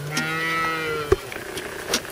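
A cow moos loudly and close by during hand milking, one long drawn-out low call followed by brief clicks and small rustling sounds.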